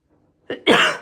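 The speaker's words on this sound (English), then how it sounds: "I've got a little bit of a tickly cough tonight." A single short cough, close and fairly loud, starting with a small catch and then a fuller, rough burst, in near silence.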